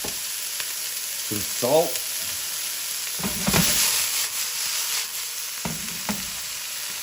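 A tablespoon of garlic paste sizzles in a hot pan with vegetables, a steady hiss under a speaking voice, with brief clatters and a short scrape partway through.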